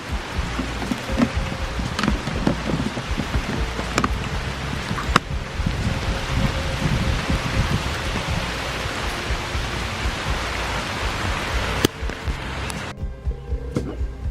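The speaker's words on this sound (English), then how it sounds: "it started raining" Steady rain falls outside, a dense, constant hiss of drops with occasional louder individual taps on nearby surfaces, continuing evenly throughout with no talking.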